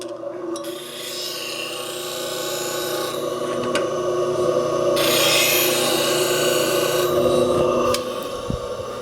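Wood being scraped while turning a tulip bowl, a continuous rough rasping that swells and eases over several seconds, close and loud, with a brief tool knock near the end and no talking.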